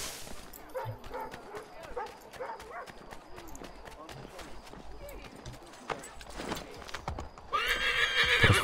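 A horse gallops in Assassin's Creed III with a rapid, steady clip-clop of hooves and a whinny, running alongside someone speaking over the game sounds.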